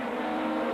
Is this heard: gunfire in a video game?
no